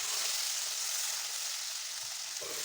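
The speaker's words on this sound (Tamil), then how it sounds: "இப்போ உடனே அரைச்ச மசாலாவை ஆட் பண்ணிடுங்க மசாலாவை ஆட் பண்ணதும் நல்லா மிக்ஸ் பண்ணணும்" Ground masala for a matar paneer curry is stirred into a pan of hot oil, a soft, even frying hiss throughout with a faint scrape near the end.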